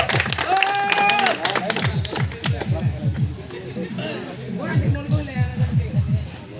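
A group claps in bursts while people talk and cheer over it at a YouTubers' gathering in Nuapada district; the clapping swells, dips, then rises again toward the end.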